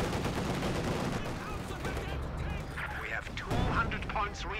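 Continuous heavy gunfire and cannon blasts from an IS-2 tank with its machine gun in the video game Company of Heroes 2, a dense loud barrage of shots and impacts throughout, with a voice talking over it.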